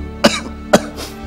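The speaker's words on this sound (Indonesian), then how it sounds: "Karena batuk." Two sharp coughs about half a second apart, close and fairly loud, followed by a softer throat-clearing breath, with no talking.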